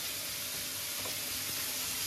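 Vegetables fry in a pan with a steady, close sizzle and crackle that holds at an even level throughout, with no voices.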